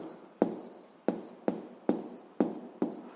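A pen scratches on paper during a seventh-grade physics lesson, in a quiet, steady series of short strokes, each starting with a tap, spread across a few seconds with no talk over them.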